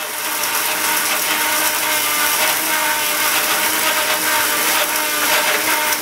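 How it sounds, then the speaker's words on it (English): Yeast for Korean rice wine (makgeolli) being ground in a blender-like grinder, a loud continuous whirring mechanical buzz with a steady rattling texture and no talk. "I'm gonna grind this up real quick."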